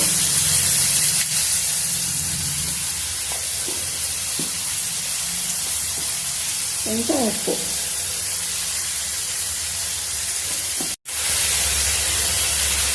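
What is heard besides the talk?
chicken frying on high flame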